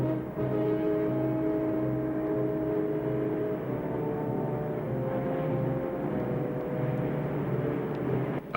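World War II bombers on the Ploesti raid fly overhead in formation, their piston engines making a steady, heavy, multi-layered drone that stays loud and unbroken throughout.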